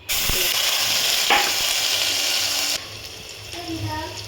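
Sliced onion hits hot oil already holding cinnamon sticks and curry leaves, setting off a loud, close, steady sizzle that drops to a softer crackle partway through, with a faint voice near the end.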